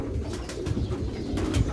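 Pure-breed Sialkoti silver pigeons coo close at hand, soft rolling low coos repeating throughout with a few faint higher chirps.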